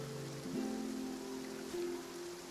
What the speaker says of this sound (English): Looks like rain. Yeah, that happened quick.